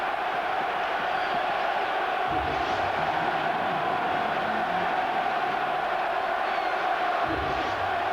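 Football crowd at Coventry City versus Arsenal in 1997, a steady dense roar of cheering and applause from the stands, sustained and broad throughout with no pauses.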